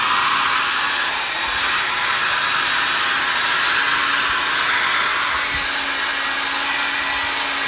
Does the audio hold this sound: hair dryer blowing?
yes